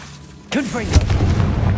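A Confringo spell in Hogwarts Legacy bursts with a sudden booming blast that is followed by a sweeping, wavering magical whoosh and a second thump, all loud and close in a short burst.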